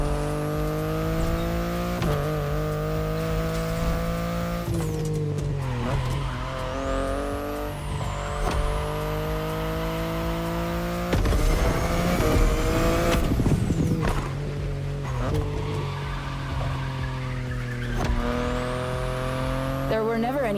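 A BMW i8 sports car in The Crew Motorfest roars loudly and close, revving through repeated gear shifts with sweeping pitch changes and bursts of tire squeal and skidding, continuous throughout the drive.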